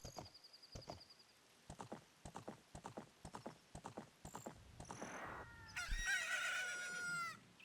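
Horse hooves clip-clop steadily in The Legend of Zelda: Ocarina of Time, a close rhythmic trot under soft game sounds. A loud animal call sounds near the end.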